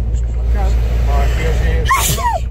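A single sharp sneeze bursts out near the end over a steady low engine rumble, heard from inside a vehicle parked at a fuel stop.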